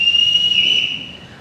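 Sharp whistle blasts from a captain calling people on a theatre stage, a loud high steady tone held close for most of a second before fading into room noise.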